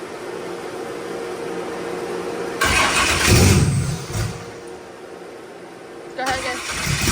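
A Ford Mustang Foxbody engine cranks and catches on a first start attempt, a loud burst of starter and engine roar close by, fading back and then surging again briefly, with people talking around it.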